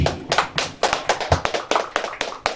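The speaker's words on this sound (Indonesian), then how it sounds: "tepuk tangan langsung untuk Mas Edi." Clapping at a youth organization podcast in Suradadi, Indonesia, with sharp, close claps from a small group in a quick, uneven rhythm, heard alone.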